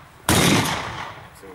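A single loud gunshot cracks out at a practical shooting competition in Dnipro, a sharp close blast followed by a broad lingering echo that slowly fades.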